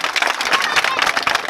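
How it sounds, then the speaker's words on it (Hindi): An audience claps loudly and steadily at a religious gathering, with dense applause and a light murmur of voices underneath. "उनके लिए एक बार जोरदार तालियां बजाएं"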